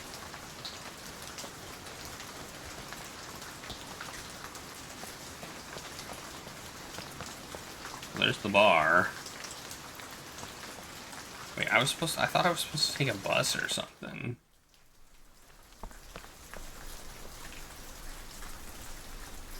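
Steady rain falls throughout a video game scene, a constant soft patter on surfaces, with someone talking briefly over it and a sudden quiet gap near the end.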